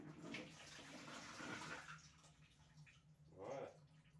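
Water pouring and splashing out of a shopping trolley motor as it is removed, a close, steady wet trickle with a brief louder gush near the end.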